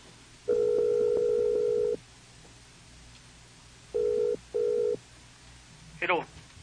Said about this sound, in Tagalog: Tawagan ko balik.